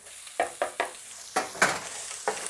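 An egg hitting a hot pan of cooking shrimp, a run of close scraping stirs and sizzling bursts at a quick, uneven rhythm over a steady frying hiss.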